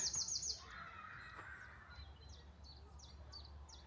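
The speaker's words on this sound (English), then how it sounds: "All the birds singing in the trees" Small birds chirp and call faintly in short, repeated phrases over quiet outdoor ambience, with a brighter trill at the start.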